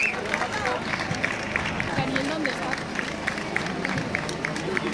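Dense, steady applause from the crowd at the award ceremony for the winners of Segovia's Carrera Monumental race, a continuous patter of many hands with a few louder claps and a voice murmuring underneath.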